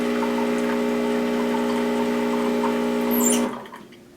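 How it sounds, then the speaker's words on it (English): Rocket Giotto Premium Plus V2 espresso machine running a cooling flush of hot water into a pitcher: a steady pump hum with rushing water for about three and a half seconds, then it cuts off abruptly. "So we have to perform a cooling flush. And I'm just going to do this into this pitcher."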